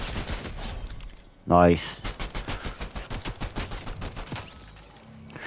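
Gunfire in Fortnite: after one loud burst, a rapid automatic weapon fires a long steady string of shots at a quick, even rhythm, moderately close. A brief word is spoken.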